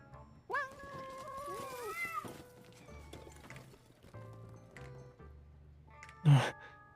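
A cat in Love and Deepspace gives a loud, drawn-out meow near the start, then quieter mews, with light footsteps and a sharp thump near the end.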